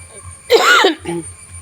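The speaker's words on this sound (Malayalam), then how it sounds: "ഇപ്പൊ ഈ ചുമ വരുന്നില്ലേ" A single close, loud throat-clearing cough bursts out abruptly, followed by a short voiced grunt, against a quiet room hum.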